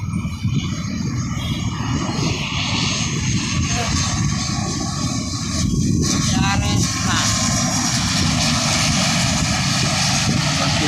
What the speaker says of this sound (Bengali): এই বিমানটি একটি ছোট বিমান, আর